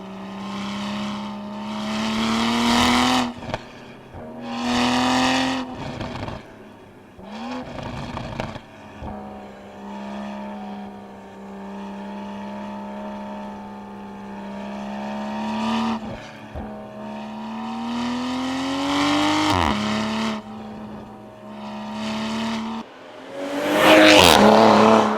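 A 2021 Toyota Supra on a canyon run, its engine droning loud and close as it accelerates, pitch climbing and dropping through repeated gear changes, with bursts of harsher revving and a sharp rising surge at the end.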